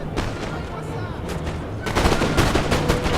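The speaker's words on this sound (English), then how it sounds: "So my old guard are going to get ready to fire here in a second." Musket volley fire from Old Guard infantry in the Napoleon Total War game, a dense crackling burst of many shots that swells louder and denser partway through, near and continuous.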